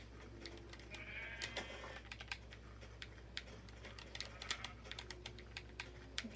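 Sheep bleats from the game Minecraft come through faintly amid rapid computer keyboard typing clicks over a steady low hum, with no talking.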